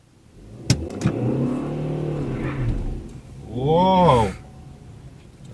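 A car pulls away hard with its wheels spinning during a driving lesson in Warsaw, a brief loud rising engine surge and tyre noise after a quieter stretch, with voices talking in the car.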